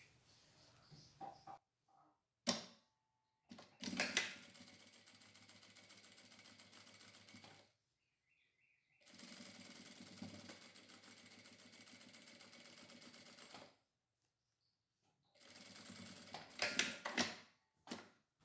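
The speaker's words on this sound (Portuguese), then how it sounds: "agora eu vou continuar com a costura de segurança no zíper todo na beiradinha" A domestic sewing machine stitches a safety seam along the edge of a zipper on a patchwork fabric pouch, running in several bursts of steady mechanical whirring and ticking separated by pauses, close and fairly clear.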